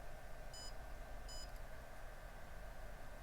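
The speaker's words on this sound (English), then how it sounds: "You should hear beeping coming from the goggles" Two short electronic beeps from Fat Shark Dominator FPV goggles, about a second apart, high and thin over a low steady background hum.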